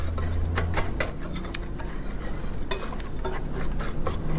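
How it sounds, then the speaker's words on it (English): Dry flour, brown sugar, baking soda and cinnamon stirred in a mixing bowl for muffin batter, a steady scraping swish with repeated light clicks of a utensil against the bowl, close and continuous with no talking. "I'm gonna just give this a stir to break that brown sugar up and get it incorporated into that flour"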